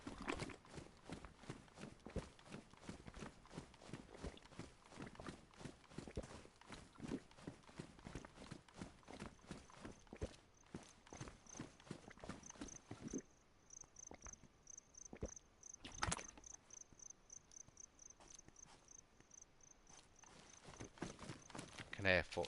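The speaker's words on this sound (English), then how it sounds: "hear footsteps, but I'm pretty sure it's a Z" Zombie footsteps in the DayZ video game: a steady run of rapid, regular thudding steps through most of the stretch, fairly close, with a thin high insect-like whine in the background and a few louder knocks.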